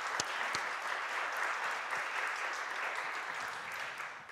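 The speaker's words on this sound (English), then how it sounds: "I think we should give our 3 departments a big round of applause" Steady applause from a conference audience, many hands clapping evenly and continuously at a moderate distance, with no voices over it.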